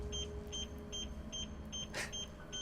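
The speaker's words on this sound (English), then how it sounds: "I'm hearing beeping from the other room." Steady electronic beeping from another room during video game play, a regular series of soft, high double-toned beeps repeating about twice a second under a low background rumble, with one brief noisy burst.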